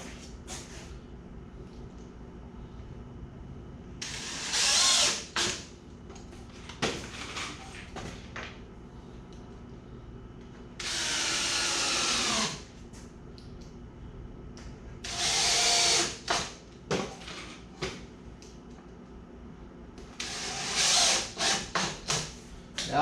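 Power drill driving screws into a wooden gate frame built from an adjustable gate frame kit, heard as four separate whirring bursts of a second or two each, with quieter handling noise in the gaps.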